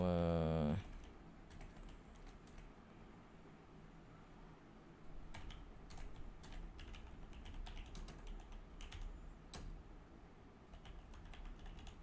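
Typing on a computer keyboard, a quiet stream of close, irregular key clicks and taps with a few sharper strikes, heard alone after a brief opening noise, under a low steady room hum.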